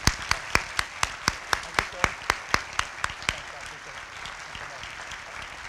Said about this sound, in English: if you'll join me in a round of applause